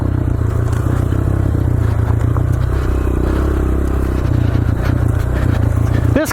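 A Honda CRF125F mini dirt bike rides single track on a trail at Cambridge, Idaho, its small engine droning steadily and close throughout, with scraping and clattering from the rough terrain.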